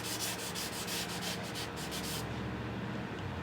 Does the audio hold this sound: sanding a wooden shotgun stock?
yes